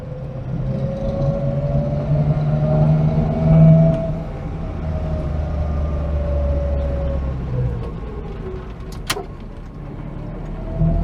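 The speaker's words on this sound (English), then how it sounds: "you can kind of tell the raughty exhaust note in this example" A small Austin A35 car pulls along the road with a low, rorty exhaust note and a steady engine drone, loud and close from inside, its pitch shifting gently as it drives.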